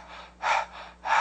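Panting breaths from a singing breathing exercise: two sharp, breathy exhalations, close and clear, separated by a brief pause with no talking.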